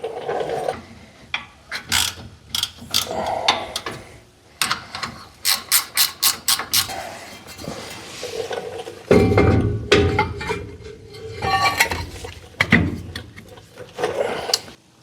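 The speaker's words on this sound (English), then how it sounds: "So I'll get those bolts tightened up quick" A ratchet wrench tightens the wheel bolts on a 1964 Chevrolet Biscayne. Quick, loud clicking bursts come close up, with rapid regular ratcheting in the middle and metallic clanks and handling noises around it.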